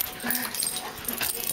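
Tibetan Terriers playing rough make close whimpers, yips and growly noises in a brief burst of scuffling, with a voice faintly underneath.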